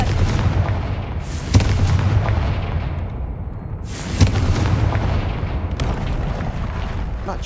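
Two heavy booming blasts from the Confringo explosion spell in Hogwarts Legacy, striking about three seconds apart over a dense, rumbling battle din with crackling debris, loud and close throughout.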